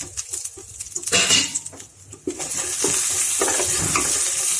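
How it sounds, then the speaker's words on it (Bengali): Whole spices, cumin, bay leaves and chopped ginger crackle and sizzle in hot oil, with sharp pops and stirring scrapes building into a steady, loud frying hiss. "ফোড়নটা একটু ভালো করে ভাজা ভাজা করে নেব"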